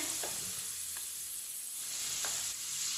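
Chicken kebabs frying in hot oil give a steady, faint sizzle throughout, with a few soft clinks, and no voices.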